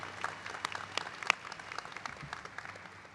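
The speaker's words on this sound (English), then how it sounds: "A round of applause for that beautiful national anthem." A crowd at a graduate nursing and optometry commencement claps after the national anthem. Crisp individual claps form steady, moderately distant applause that continues throughout.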